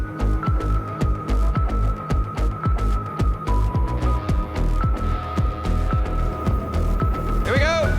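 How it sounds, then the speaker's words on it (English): A blacksmith's forge is being brought up to forge-welding heat, producing a loud, continuous low roar and throbbing hum that holds steady throughout. "Let's get this thing hot for forge welding."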